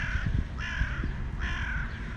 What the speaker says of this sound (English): So, well, there go our crows.